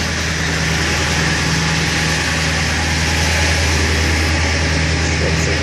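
A 2001 Ford F550 tow truck idles at a raised 1200 RPM, a steady loud low rumble with a constant vibrating drone and no variation.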